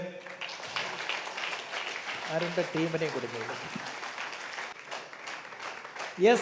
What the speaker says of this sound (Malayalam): എവിടെയാണ് അനുഗ്രഹവും കയ്യടികളൊക്കെ?